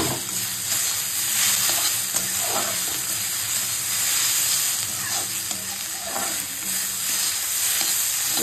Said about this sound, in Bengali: ভাজাটা তো হচ্ছে।